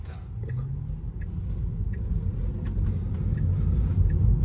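A steady low rumble of tires on the road inside a quiet Tesla Model 3 electric car, slowly growing louder, with a few faint clicks.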